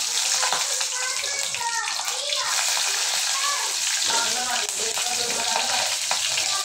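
Cumin, mustard seeds, garlic and green chillies crackle and sizzle in hot oil for a Marathi amti tempering, a dense, steady frying hiss with popping bursts and occasional stirring throughout.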